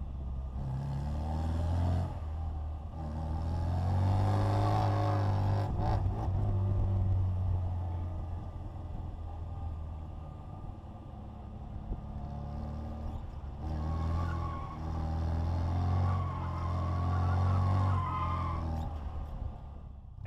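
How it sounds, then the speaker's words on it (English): A Bugeye Sprite's small engine breathes through a 1275 twin-tip muffler, a close, throaty exhaust drone that rises and falls with revving through two strong pulls, heard alone without talk. "that's our 1275 twin tip muffler. Actually, it sounds great on 948s too."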